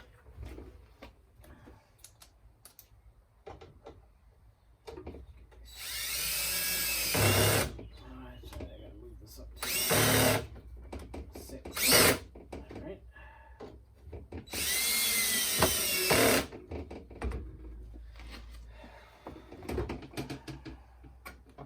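A power drill drives screws into a Flow Hive 2 leg kit, with several loud whirring bursts of a few seconds each between quieter handling clatter, close by.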